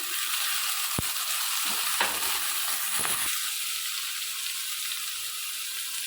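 Carrots frying in a pan for semolina upma, a steady close sizzle with crackling hiss throughout, broken by a few sharp clacks of a utensil stirring against the pan.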